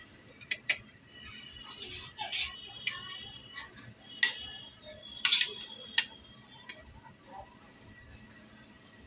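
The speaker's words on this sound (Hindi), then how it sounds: "इस मसाले को हम मिला ले रहे हैं।" A spoon stirs garam masala, turmeric and chili powder together in a small bowl, producing quiet, scattered metallic clinks and taps at irregular intervals against a hushed kitchen background.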